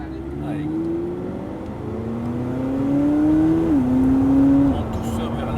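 A McLaren sports car accelerates up a motorway slip road, its engine note climbing in steady rising steps with a brief shift, loud and close from inside the cabin, with people talking over it.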